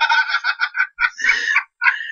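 A Rhode Island Red rooster, 22 weeks old, clucks and crows loudly up close in a series of bursts, with short pauses between the calls.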